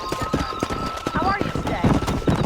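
A horse's hooves clip-clopping in a steady, quick rhythm in the Red Dead Redemption video game, mid-close and persistent, with a person talking over the hoofbeats.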